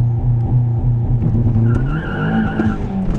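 A car launches hard using launch control, its engine roaring loudly and close while the tires spin and squeal through first gear, with the pitch shifting as it accelerates.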